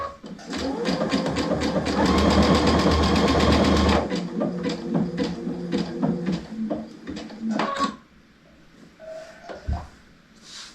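A sewing machine runs steadily for about four seconds while stitching curlicues, then stops; a few short bursts of stitching and light clicks follow before it falls quiet.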